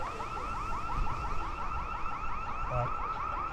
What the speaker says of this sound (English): It's the fence alarm at the Treasury.